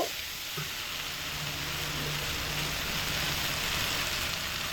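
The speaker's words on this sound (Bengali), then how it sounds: "এবার এর মধ্যে আমি পোস্ত বাটার জল দিয়ে দেব" Poppy seed paste mixed with water poured into vegetables frying in a pan, giving a continuous loud hiss and sizzle that holds steady throughout, with faint clinks early on.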